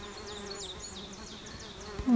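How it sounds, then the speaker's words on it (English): A male tricolored bumblebee buzzes while pollinating dogbane in a bog, its wingbeat drone steady and close, with faint insect hum and a brief louder rustle at the end. "We've got some bumblebees, like this male tricolored bumblebee pollinating."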